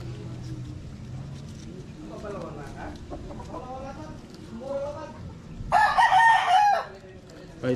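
A rooster crows loudly and close by near the end, after a stretch of quieter talking and background clucking in a small-lot chicken pen.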